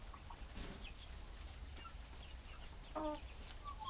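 Young laying hens in a henhouse give soft, scattered clucks and brief calls, faint against a steady low background hum, with one slightly louder burst of clucking near the end.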